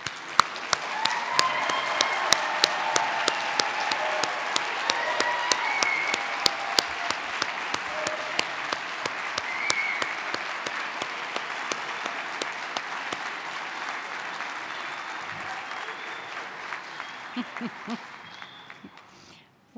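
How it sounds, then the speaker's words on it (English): An audience at a university graduation toast applauds standing graduates, a sustained broad round of clapping that holds steady for many seconds and then tapers off toward the end. "I want all the graduates who are with us tonight to now stand so that we can applaud you."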